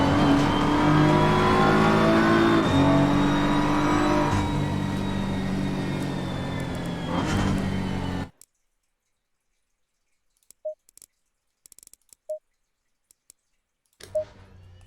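A BMW M4 GT3 race car in Assetto Corsa Competizione at Kyalami accelerating hard, its engine droning loud with rising pitch and gear shifts for about eight seconds before cutting to near silence with scattered clicks.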